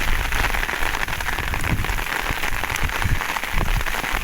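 Heavy rain pours down steadily, a dense, continuous roar of drops hammering a surface, loud and unbroken throughout with no voices.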